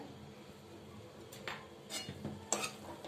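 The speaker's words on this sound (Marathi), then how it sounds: "भाजी छान परतून घेऊया।" Radish, grated, stirred and sautéed in a pan: quiet scraping and stirring with a few sharp utensil clinks against the pan, over a soft background hiss.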